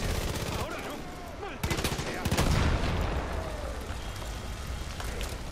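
Proximity mines in Far Cry 5 go off amid game gunfire and blasts popping in a dense, chaotic barrage, with a louder burst in the middle and a constant noisy rumble throughout.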